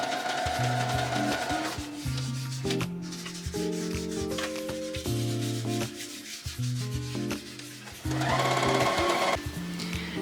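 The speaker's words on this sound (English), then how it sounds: "I'm just going to sew the 2 layers together." A sewing machine stitches two fabric layers together along diagonal quilting lines, its motor whirring in repeated bursts with short pauses between runs.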